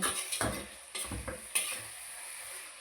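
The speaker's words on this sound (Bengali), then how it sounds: "এবারে ভেজে রাখা আলুগুলো এর সাথে আমি দিয়ে দেবো এবার আলুগুলোকে আমি এর সাথে মেখে নেব" Fried potatoes being stirred into sizzling spice masala in oil, with a soft frying hiss under several scraping spoon strokes against the pan, close and fairly quiet.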